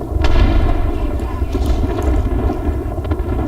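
Rapid gunfire from a shooter video game, loud and continuous with dense crackling bursts and booming low rumble filling the whole stretch.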